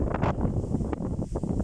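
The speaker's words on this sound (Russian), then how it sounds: "И ветер еще сильнее стал." Strong storm wind gusting across an open field at about 23 metres per second, a short burst of close, rough buffeting roar against the microphone.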